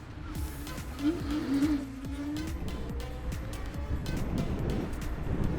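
An Inmotion RS electric scooter's motor rising in pitch as it accelerates to 40, a steady whining drive sound over road noise, moderately loud and continuous.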